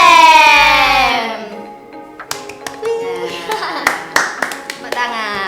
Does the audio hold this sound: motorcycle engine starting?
no